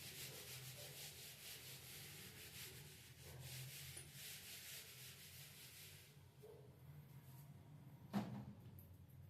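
Repeated broadband rubbing strokes from a duster erasing writing on a classroom board, steady and fairly faint for about six seconds, then quieter with one sharp knock near the end; no talking.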